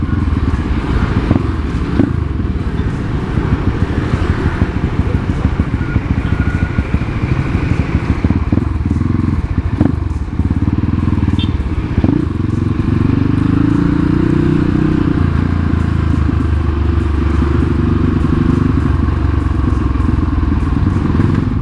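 A Kawasaki KLX bored up to 248 cc drones loudly and continuously as it accelerates, its engine note holding steady with occasional clatter and thumps mixed in.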